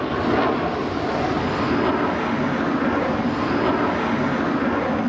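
Eurofighter jet flying manoeuvres at the Paris Air Show, a dense, continuous roar of jet engine noise that holds steady and loud throughout, heard from a distance across the open airfield.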